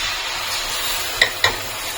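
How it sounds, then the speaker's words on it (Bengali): A chili, ginger and garlic paste hits frying onions in a pan, giving a close, steady sizzling hiss with two quick sharp clicks near the end. "এখন এই পেস্ট করা যে আমি পেস্ট করেছিলাম লঙ্কা, আদা, রসুন বাটা, এটা আমি এখানে ঢেলে দেবো।"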